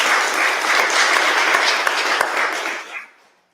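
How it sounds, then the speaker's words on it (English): Applause from a community gathering audience, steady dense clapping held for about three seconds before tapering off and stopping, close and fairly loud. "Can we offer up some applause?"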